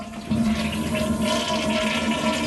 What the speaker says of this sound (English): Next thing we have to do is drain the tank.